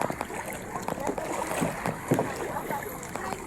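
Water sloshes and splashes in uneven strokes close by, like oars dipping as a small boat is paddled, with light wind in the background.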